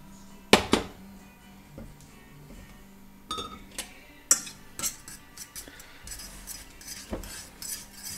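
Homemade chicken sausage mixture stirred in a pan with a utensil, sharp clinks and scrapes at the start, then scattered taps and soft mixing noises, close and without talk.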